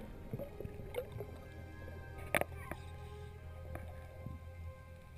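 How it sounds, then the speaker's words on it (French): Faint, muffled underwater ambience from a spearfishing dive, with a low mechanical drone and steady hum of boat propellers, broken by scattered clicks, bubbles and a few sharp knocks. "Ça, c'est les hélices de bateau, on les entend toujours."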